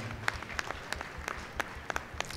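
A church congregation at a Divine Mercy feast Mass in Medinaguda, Hyderabad, applauds with scattered, fairly faint hand claps spread unevenly across a quiet room.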